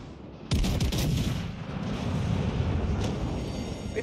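A Collingwood-tier battleship's guns firing in World of Warships Legends, a sudden loud salvo boom followed by a sustained rumbling roar that slowly fades, close and unaccompanied by talk.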